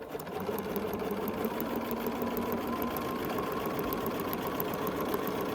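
Domestic sewing machine stitching quilt block pieces for a 1930s-style pineapple sampler block, a steady continuous whirring hum running the whole time with no speech.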